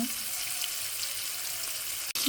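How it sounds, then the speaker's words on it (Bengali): Fish pieces frying in hot oil produce a constant bright hiss and crackle, close and unbroken apart from a sudden momentary drop near the end. "তেলটা গরম হয়ে গেছে আর মাছ দিয়ে নেব এই মাছগুলো সব দিয়ে দিছি"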